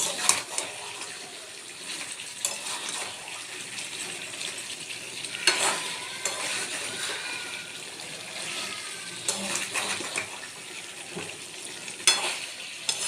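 Mutton cooked with yogurt fries and is stirred in a pan, giving a soft, steady sizzle with intermittent scrapes and knocks of a spoon against the pan at moderate distance.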